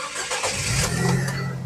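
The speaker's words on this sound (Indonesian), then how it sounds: "Oke, sekarang kita coba start mobil ya." A 2011 Nissan Grand Livina 1.5 automatic starting up: a brief crank catches into a steady, close, loud engine hum with low rumble that holds without talk.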